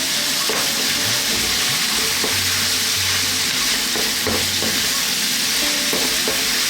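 White cabbage and cauliflower added to a pot of vegan turmeric vegetable curry stew, a steady close sizzle with stirring and scraping knocks throughout.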